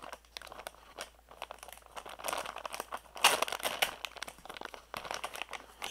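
Crinkly plastic packaging around a Mercury phone case for a Galaxy S II is handled up close, giving a run of irregular crackling and crumpling bursts with one sharper rustle partway through.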